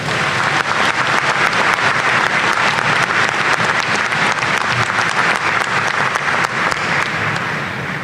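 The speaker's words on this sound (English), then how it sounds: "Please let's give them another round of applause." Sustained audience applause at a spring college commencement for the Washburn Singers, dense steady clapping from a large crowd with no talk over it.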